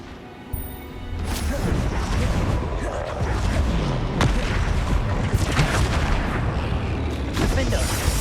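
Flipendo spell cast in Hogwarts Legacy during rapid spell combat, a loud booming whoosh blending into a sustained wash of magical impacts and crashes, with a voice heard over the effects.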